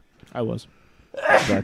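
A single sharp sneeze bursts out close by after a brief spoken phrase, loud and abrupt.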